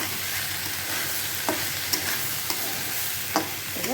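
A vegetable curry in broth simmers in a pot with a constant close bubbling hiss, broken by a few soft pops and light stirring taps.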